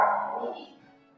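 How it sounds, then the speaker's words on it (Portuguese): Dogs bark outside a house: one near, fairly loud bark that trails off within a second, with no other sounds. "tem uns cachorros latindo aqui fora"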